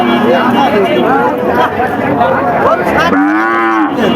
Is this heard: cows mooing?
yes